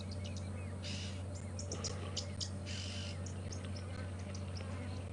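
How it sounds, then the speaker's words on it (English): Oxpeckers chirp and twitter around a buffalo at a waterhole on an evening safari drive at Djuma and Arathusa, a string of faint, scattered calls over a steady low rumble of vehicle and wind noise. "The chirping we can hear, the oxpeckers that are around the buff."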